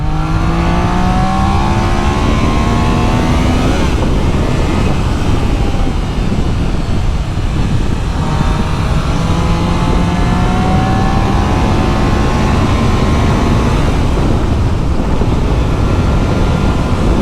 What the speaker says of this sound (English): So I guess this is real world riding.